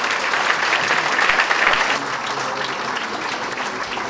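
Audience at a business awards ceremony applauding a winner: dense, even clapping from a large crowd, loud and sustained, easing slightly partway through and carrying on to the end.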